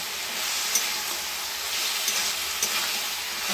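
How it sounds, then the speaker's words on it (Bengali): Food sizzles and fries steadily in a pan while it is stirred, a continuous dense crackle with occasional small scrapes or ticks of the utensil. "ভালো করে কষে নিই।"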